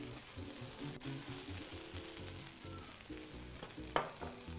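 Beef searing in a hot pan, a steady crackling sizzle with a sharp clatter near the end and background tones running underneath.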